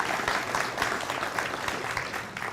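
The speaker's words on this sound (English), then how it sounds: "How about a round of applause for that?" Steady applause from a seated audience at a CPS Energy press conference on battery storage, a continuous patter of many hands at moderate distance with no voices over it.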